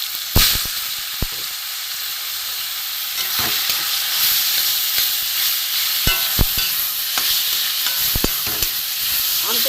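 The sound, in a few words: grated green mango frying with five-spice in pan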